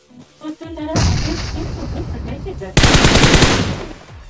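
Bursts of automatic gunfire in the battle royale game BGMI, loud and close, with a quieter stretch of shots giving way to a denser, heavier volley near the end.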